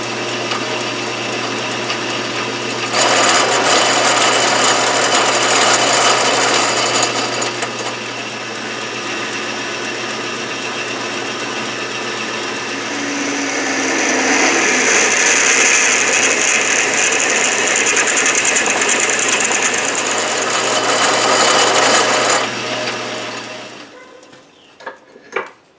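A 1931 South Bend 11-inch lathe cuts 16 TPI threads, its gears and feed mechanism whirring and clicking steadily on a low motor hum that rises and falls in intensity over the pass before stopping abruptly.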